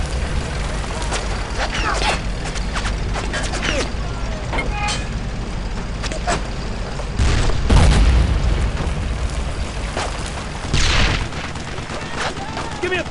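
A tank fires in Brothers in Arms: Road to Hill 30, deep booms rising out of a loud, continuous battle din of gunfire and rumble, with two heavier blasts standing out near the middle and later.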